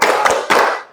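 A classroom of pupils does a short rhythmic concentration clap, two or three loud, close hand-clap bursts in quick succession lasting under a second.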